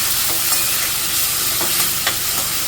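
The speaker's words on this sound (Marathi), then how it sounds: "कांदा बारीक गॅसवर आपला परतत राहील कांदा आणि टमाटा दोन्ही एकत्रच बारीक केलं आहे" Finely chopped onion and tomato sauté together in a pan over a low gas flame, giving a steady, close sizzling hiss throughout with a few soft stirring scrapes.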